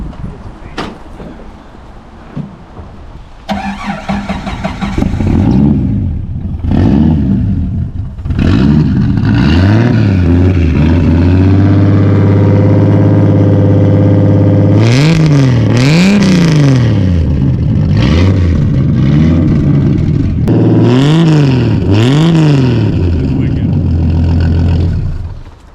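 A 4.6-liter stroker V8 in a Corvette C5 cranks and catches, settles into a loud rough idle, then is blipped through several sharp rising and falling revs, close and dominant.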